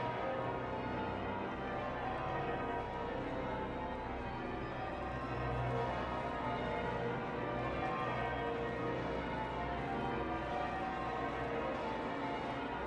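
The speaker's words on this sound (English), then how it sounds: "The bells of St. Paul's pealing in the daylight," Church bells of St. Paul's Cathedral peal during a Diamond Jubilee thanksgiving service, a steady wash of overlapping tolling tones sustained throughout, set back in a large reverberant space with no voices.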